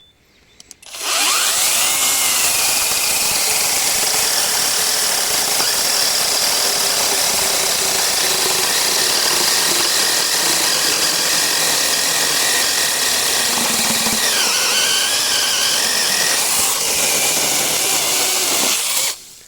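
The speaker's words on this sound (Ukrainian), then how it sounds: "Будемо різати однією рукою і подивимося, яка пила швидше вріже ось цю черешню" Cordless Konsun chainsaws cutting through a cherry trunk, the motor whining loudly and steadily for nearly twenty seconds as the chain bites into the wood, with no talk over it.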